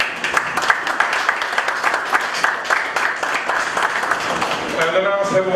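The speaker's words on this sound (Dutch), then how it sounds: "Ik wil een applaus voor meneer Salim" Applause for a guest at a bachelor graduation presentation, rhythmic clapping from a modest crowd that fades near the end as a voice begins speaking.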